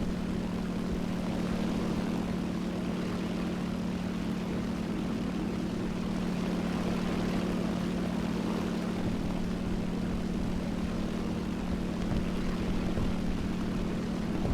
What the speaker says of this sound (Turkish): düşman bombardıman uçağı